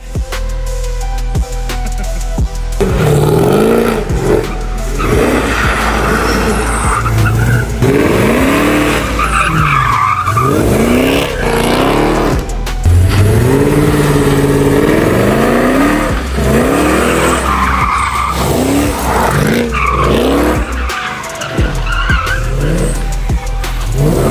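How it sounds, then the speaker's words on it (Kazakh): Mercedes 211 with a 5.5-litre supercharged engine of over 600 hp drifts, its engine roaring loud and continuous as tires skid and squeal in long repeated sweeps, with no talking. "Дрифт кылып атам."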